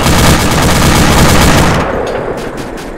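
Dense, loud automatic gunfire from an ArmA 2 firefight, a continuous rattling burst that then thins into scattered shots as the clip closes.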